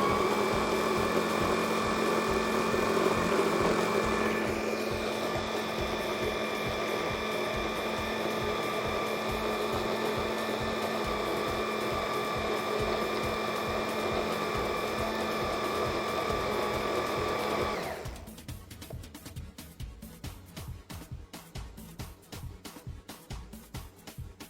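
An electric mixer's motor, which has a broken plastic head and gives off smoke, runs with a steady, tonal whine. Near the end it gives way to a rougher, rattling buzz.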